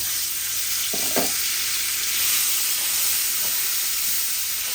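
Pieces of boal fish fry in a pan with a steady, close hissing sizzle, and a couple of soft scraping stirs break in near the start and middle.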